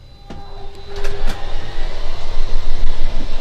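The electric slide-out room motor on a 2017 Coachmen RV starts up with a few clicks, then runs as a steady close mechanical whir and hum that grows louder and holds.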